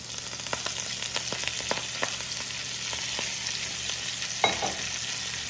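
Wilted garden lettuce being folded and stirred in a big pan over the burner, soft sizzling under scattered scraping and tossing sounds, close and moderately quiet, with a sharper clank near the end.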